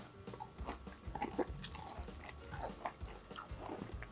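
Someone bites into and chews a crunchy schnitzel with potatoes and cucumber, giving soft, irregular crunches up close at low volume with no talking.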